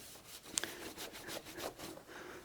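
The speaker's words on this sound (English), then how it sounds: "I'm going to wipe this mating surface down" A cloth wipes down the tail light mating surface on a Lexus LX470, giving soft, faint rubbing strokes in a loose rhythm, close by and with no voices.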